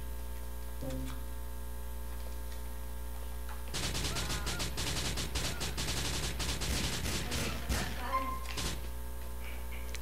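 Gunfire in the GTA 4 video game: a burst of rapid automatic shots and scattered single cracks, loud and close, over a steady electrical hum, with a brief voice early on.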